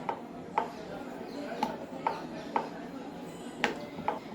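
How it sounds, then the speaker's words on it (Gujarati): Thick wheat bhakri dough being rolled out, with a rolling pin tapping and knocking on the board about every half second, soft and fairly near against a quiet room hum. "હવે આપણે એને વણીશું. થોડી જાડી ભાખરી વણવાની છે તમારે."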